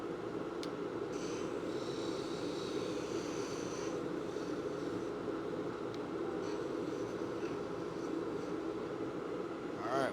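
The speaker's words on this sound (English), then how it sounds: "turn the blower off" A blower runs in a pen turning workshop, producing a continuous low, whooshing drone that stays even and fairly quiet throughout.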